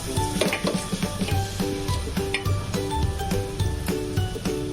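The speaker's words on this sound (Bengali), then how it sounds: "তেলটা গরম হয়ে গেছে, এখন এর মধ্যে দিয়ে দেবো আমি সয়াবিনের দানাগুলো" Soya chunks sizzle steadily in hot white oil, with repeated clinks and scrapes of a spoon stirring the pan over the continuous frying hiss.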